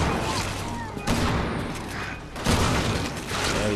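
Gunfire in Resident Evil, with sharp shots cracking out at intervals over dense, noisy game ambience; a few louder reports stand out from a steady rumbling background.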